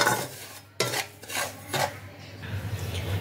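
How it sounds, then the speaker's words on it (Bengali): Semolina dry roasting in a pan over a low gas flame, stirred with steady scraping and rasping strokes against the metal, close and moderately loud, with no voices. "এভাবে আমি মিনিট 3-4 এটাকে হালকা করে একটু ড্রাই রোস্ট করে নিচ্ছি।"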